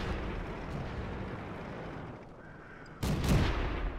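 A French AMX 38 tank fires its cannon in World of Tanks, one sharp booming shot landing late over a steady rumbling engine and battlefield wash.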